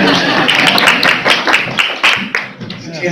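Scattered applause and clapping in a school board meeting room, with loose claps over a brief stretch and voices talking under and around them.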